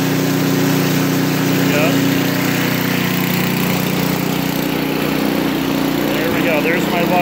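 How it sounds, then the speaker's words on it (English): An Ariens Deluxe 28 snowblower engine runs steadily at a loud, constant drone with the choke off and throttle raised, close by and alone. "take the choke off and increase the power, throttle the pull"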